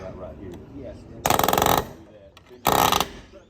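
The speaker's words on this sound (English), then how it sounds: "we like to use a palm nailer. It makes quick work of it." Palm nailer driving nails through a window flange over house wrap during a window installation, heard as two loud, dense bursts of rapid rattling impacts about a second apart, with quieter background noise between them.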